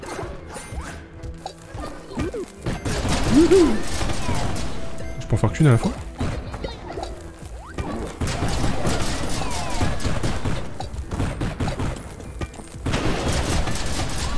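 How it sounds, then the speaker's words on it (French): Rapid bursts of explosions and crashing impacts from the video game Undermine, loud and clustered, while someone talks over the action. "il y a assez d'explosions comme ça là"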